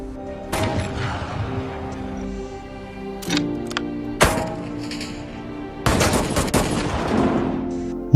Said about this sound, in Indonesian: Martin akan memberi informasi jika Jack berhasil menembak dengan 3 peluru opposol